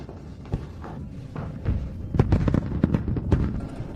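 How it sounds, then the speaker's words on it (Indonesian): Fireworks go off in irregular bursts of thumps and crackles, building in intensity, with no one speaking. "Wah, ada yang menyalakan kembang api."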